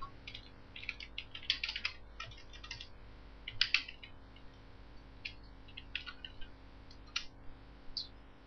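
Keys on a computer keyboard click in irregular bursts, with short pauses between them, while a name is typed. The sound is close and soft over a faint steady hum, with no speech.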